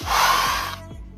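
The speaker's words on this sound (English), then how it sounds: "I'm going to take my blow dryer on cool setting," A steady, loud whoosh of a hair dryer on its cool setting blowing for most of a second, then cutting off and leaving a quiet hum.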